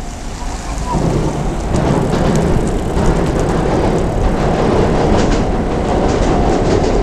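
A Japanese express train rumbles past close by on the Niigata coast near Naoetsu, a loud continuous roar of wheels and wind with rhythmic clatter throughout.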